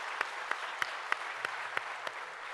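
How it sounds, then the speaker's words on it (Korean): A church congregation claps during a dawn prayer service: faint, evenly spaced claps in a slow, steady rhythm over a quiet room. "이 기적을 이루신 하나님께 우리 영광의 박수 한번 올려드리겠습니다."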